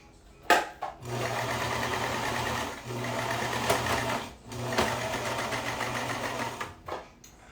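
A sewing machine stitches leftover tweed fabric in several close, loud bursts of rapid, even humming and clatter, separated by brief pauses and a few clicks.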